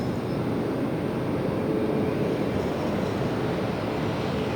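A jet aircraft at LAX airport produces a loud, steady, broadband engine roar that holds constant throughout, close and unbroken, with no talk over it.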